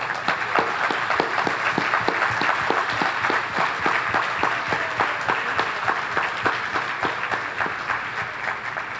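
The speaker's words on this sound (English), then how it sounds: "c'est l'occasion d'applaudir très fort à ces volontaires" A crowd claps for Red Cross volunteers in sustained, even applause with many overlapping hands, a mostly steady roar of clapping with a few sharper individual claps standing out.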